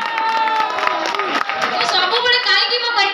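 An audience at a stage event claps and cheers in a dense, continuous wash, with voices and shouts mixed through the crowd noise.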